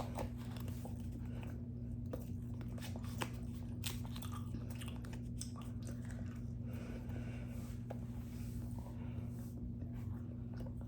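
A piece of plain paper chewed slowly up close, with continuous moist crunching and squishing bites over a steady low electrical hum, and no clear talk.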